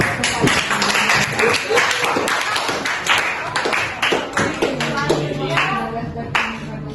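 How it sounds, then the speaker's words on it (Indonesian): A high school economics class claps for a classmate's correct answer, a crowd of sharp, slightly ragged hand claps close by, with a few voices murmuring underneath. "Beri tepuk tangan dulu."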